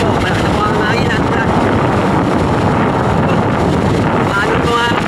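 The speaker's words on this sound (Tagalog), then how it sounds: "malakas na po ang hangin" Strong wind buffets the microphone outdoors during a storm, a loud, steady roar throughout with a voice talking faintly underneath.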